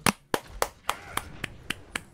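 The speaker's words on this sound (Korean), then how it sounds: "박수 한번 치면서 영상 마무리하도록 하겠습니다" Eight crisp hand claps in a steady, slightly slowing rhythm, close and distinct, with no talking.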